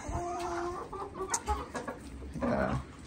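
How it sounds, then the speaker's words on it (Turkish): Farm chickens cluck and murmur close by while being fed grain, a busy stretch of short overlapping clucks and calls with a louder burst near the end. "Böyle tavuklara yem verdim."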